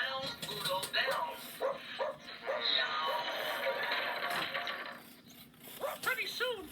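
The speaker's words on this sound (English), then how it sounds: "Good dog. Down, Pluto, down." Cartoon dog Pluto barks repeatedly in short, bouncy yelps and then trails into whimpering squeals, close and lively, with voices talking over much of it.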